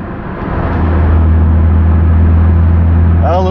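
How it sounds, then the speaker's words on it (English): A BMW E36 M3 with a newly installed exhaust drones loudly in third gear from inside the car, a steady low boom holding throughout with a little road rumble underneath. "A little droney in third gear."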